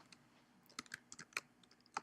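Quick, light keystrokes on a computer keyboard, a short irregular burst of close clicks with small pauses between them, heard alone.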